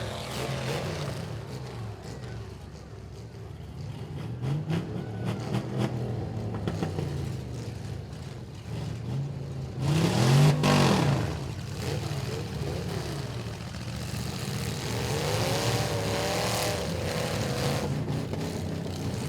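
Demolition derby car at a county fairground being cranked and fired up, engine churning and catching into rising revs and idling, with loud bursts midway over crowd and PA background.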